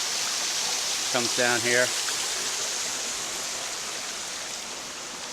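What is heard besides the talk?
small waterfall on a river, about 6 or 7 feet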